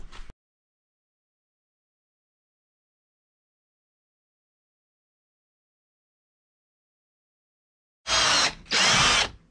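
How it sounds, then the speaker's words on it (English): After long silence, a power drill whirs in two close, loud bursts near the end, with a brief blip of sound at the start. "Drilling."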